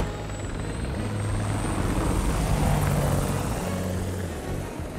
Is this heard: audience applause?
no